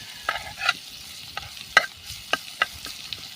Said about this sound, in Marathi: वाटण आपल्याला परतून घ्यायचं आहे थोडंसं, जेणेकरून त्यातला कच्चेपणा निघून जाईल.